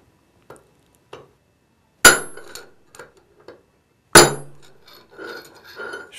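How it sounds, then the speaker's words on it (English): Hammer blows drive a large screwdriver against an old 4L60E transmission bushing on a hard work surface, two light taps then two sharp metallic strikes with ringing decay, interspersed with smaller clinks, close and with no talk. "To drive the old bushing out, you'll need a large screwdriver, hammer, and a hard work surface."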